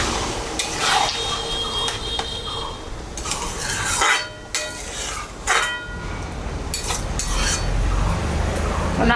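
Mutton kosha is stirred in a pot with hot water added. A spoon scrapes and clatters against the metal in irregular, close strokes, with occasional louder knocks.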